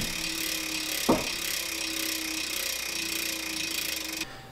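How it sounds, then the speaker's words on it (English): Stock freehub ratchet in a DT Swiss 350 hub spinning freely: a steady, close buzzing rattle with one sharp knock early on, cutting off abruptly near the end. "So this is the sound of the stock mechanism that's in the hub."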